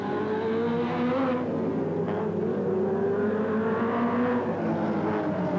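Compact speed cars racing at Liverpool City Speedway in the mid-1980s, a continuous loud engine drone with rising and falling pitch as cars circle the track, no voices heard.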